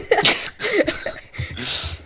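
A voice imitates ducks plunging their heads into mud, a wet, sputtering, gurgling noise in quick bursts, like something splashing and wiggling through mud.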